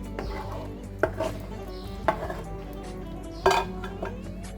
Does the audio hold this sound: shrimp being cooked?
yes